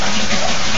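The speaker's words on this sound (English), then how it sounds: "The water inside the air cap is continuing to be sucked out" Water is drawn out through the air cap of a bell siphon fed by half-inch polyethylene tubing, a loud, continuous gushing rush that stays steady and close throughout.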